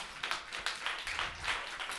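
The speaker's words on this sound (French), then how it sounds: "Je vous demande de l'applaudir bien fort." Audience applause for the poet Chantal at a slam poetry gathering: a dense, steady patter of many hands clapping, loud and continuous for the whole stretch with no talk over it.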